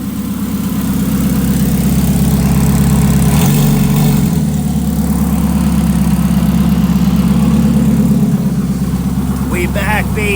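A stock engine idles in a rebuilt car in a garage, a loud, close, steady low rumble that holds even throughout, with a brief change in tone partway through.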